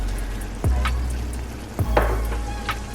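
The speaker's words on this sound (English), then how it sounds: "I'm gonna give it a stir." Marinara sauce with ground beef and spicy smoked sausage sizzles in a pot as a spoon stirs it, giving a couple of dull knocks against the pot over a steady close fry.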